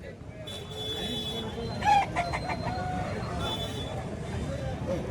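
Roosters crow amid a busy hen market in Bhadradri Kothagudem, one crow rising briefly over a steady background babble, with someone talking throughout.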